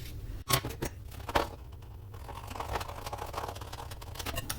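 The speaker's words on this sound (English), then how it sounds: "I'm just going to cut a half a circle out of the centre" Scissors cutting a semicircle out of card, a few sharp snips and crisp cutting strokes close up, quiet, with no talking.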